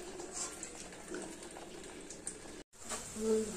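Fish curry sauce bubbles in a pot on a gas stove, soft burbling that runs on steadily with a brief dropout near the end.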